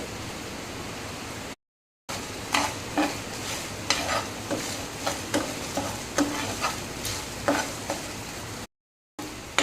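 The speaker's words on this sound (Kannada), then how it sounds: "ಸ್ವಲ್ಪ ಎಣ್ಣೆ ಹಾಕಿ ಫ್ರೈ ಮಾಡ್ತೇನೆ" Ingredients such as turmeric and coriander fry in oil in a pan for a pumpkin chicken curry, giving a steady close sizzle broken by repeated scraping stir strokes, with brief silent gaps and no talking.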